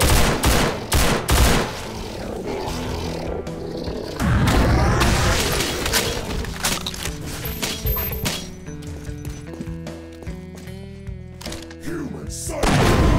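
Dense, rapid gunfire and booming explosions in Doom 2 with the Project Brutality mod, loud bursts and fusillades stacking over game music, continuous across the stretch.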